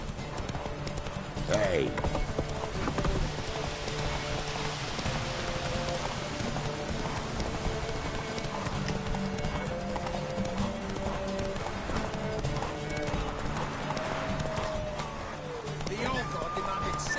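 Horse hooves clip-clop steadily through a Witcher 3 game scene, mid-level and continuous over the game's ambient sound, with rain-like patter and a voice cheering in the clip.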